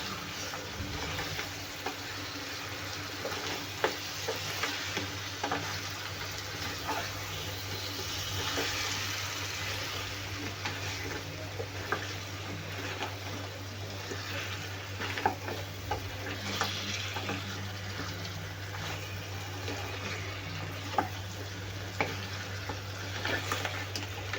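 Crab is sautéed and stirred in roasted masala for a crab curry, a steady sizzle with repeated scraping stirs and light clinks over a low constant hum, no one speaking.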